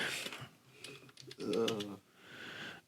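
Computer keyboard typing in a studio, heard as quick, faint, scattered clicks with a voice murmuring softly in the background.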